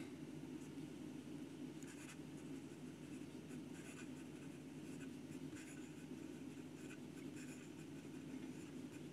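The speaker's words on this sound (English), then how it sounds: "And some quick writing." Manuscript ML1856 "Oyster" fountain pen writing quickly across paper, a steady close scratchy nib sound with faint rhythmic strokes over a constant low hum, no talking.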